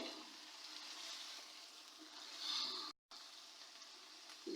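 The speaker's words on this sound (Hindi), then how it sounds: "ये देखिए इसका ऑयल निकलना शुरू हो गया है, लेकिन अभी मैं और इसकी भुनाई करूंगी अच्छी तरह ये भुन जाए।" Beef mince frying in its released oil in a pan, a soft continuous sizzle with gentle hiss, faint and close, briefly cut by a moment of silence.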